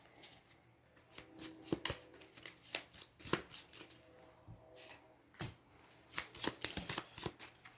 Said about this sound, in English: Double shuffle.